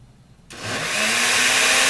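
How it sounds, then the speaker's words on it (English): Blender switches on abruptly and grinds stew sauce made from broth in a small batch, a loud motor whine climbing as it gets up to speed and holding steady. "I'm going to grind it up in small batches here in my blender."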